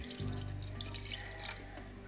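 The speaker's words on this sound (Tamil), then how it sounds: "தண்ணி சேர்த்துக்கலாம்." Water is poured into mutton cooking in a pot, giving a faint, brief splash and trickle over a low steady hum.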